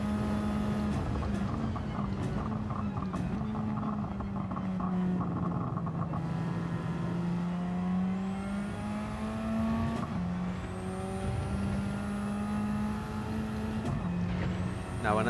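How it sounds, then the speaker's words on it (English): Race car engine in the Gran Turismo 7 video game with anti-lag, revving hard through high revs and shifting pitch as it climbs and drops, a loud, continuous engine whine without talk. "Now I know I can hit the high revs and not really worry about going into the over rev"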